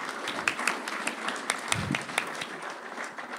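Audience applauding the Aramark catering staff at the 2019 Toyota Leadership Summit, a steady wash of clapping from a room of people with a few sharper hand claps standing out, moderately loud and continuous throughout.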